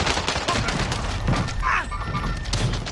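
Machine-gun fire from a helicopter in a video game rattles on continuously in dense, loud bursts, with thuds and game effects mixed in and a voice talking underneath.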